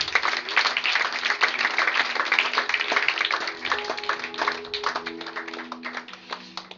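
A church congregation applauding together in steady, dense clapping that fills the space for several seconds, with a sustained organ or keyboard note entering underneath toward the end.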